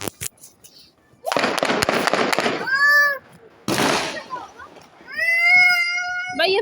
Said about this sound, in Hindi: भाई ये फायरिंग हो रही है यार,